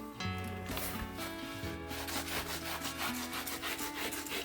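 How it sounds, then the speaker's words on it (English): Dried paint is rubbed off floor tile grout by hand, a steady close scratchy scrubbing that continues without a break and with no speech. "It rubs right off."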